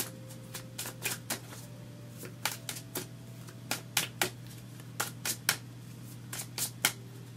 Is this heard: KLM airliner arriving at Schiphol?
no